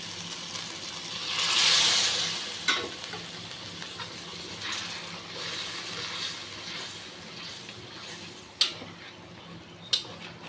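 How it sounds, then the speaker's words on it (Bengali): Warm water poured into spiced oil in a pan brings a rushing burst of sizzle that fades into a steady fry, with occasional sharp clinks of a stirring spoon against the pan. "তেল ছেড়ে দিয়েছে, এবার একটা উষ্ণ গরম জল দেবো।"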